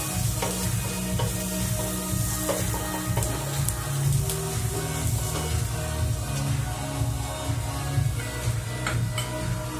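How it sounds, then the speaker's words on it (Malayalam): Green chili, ginger and curry leaves sauté in hot oil, crackling and sizzling continuously up close, with scattered clinks and scrapes of stirring in the pan. "ഇഞ്ചി, പച്ചമുളക്, വേപ്പിന്റെ ഇല എന്നീ സാധനങ്ങൾ ഇട്ടിട്ട് നമ്മളിപ്പോ കുറച്ച് എണ്ണയിലേക്ക് വാട്ടിക്കൊണ്ടിരിക്കുകയാണ്"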